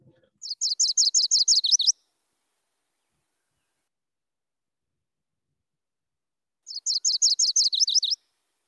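Two separate songs from a MacGillivray's warbler, each a run of about ten rapid, bright, buzzy notes. A long silent pause lies between them, and the bird sounds close and clear with no other sounds.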